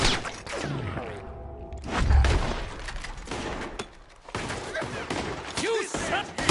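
Rapid bursts of gunfire in a Red Dead Redemption 2 shootout, loud and close with heavy thumping blasts, mixed with shouted voices throughout.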